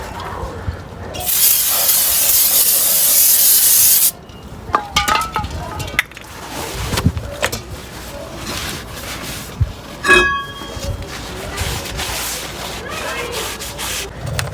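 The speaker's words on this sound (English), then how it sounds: "So we're going to spray it with some brake clean to get any oil off." An aerosol can of brake cleaner hisses in a steady, loud spray for a few seconds while degreasing drum brake parts, followed by clinks, rubbing and metallic handling noises nearby.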